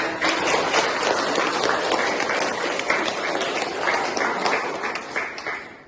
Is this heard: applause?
yes